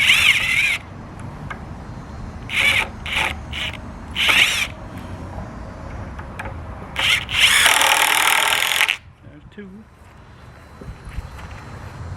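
A power drill driving screws into a wooden chicken nest box, several short whirring bursts and one longer run, loud and close, separated by quiet pauses with light handling noise.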